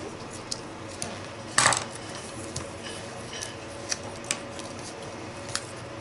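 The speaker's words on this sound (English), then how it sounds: "Just by cutting these little guys down." Scissors snip paper flower pieces for a calendar, a few sharp, separate clicks spaced out at close range, with one louder rustle or snip near the start.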